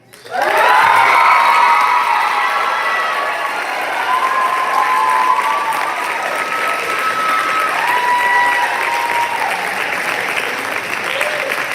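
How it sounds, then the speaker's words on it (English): A crowd applauds steadily for several seconds, with cheers and whoops rising over the clapping. "Let's give another round of applause for our response."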